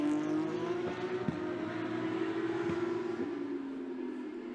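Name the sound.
Porsche Carrera Cup race cars crossing the finish line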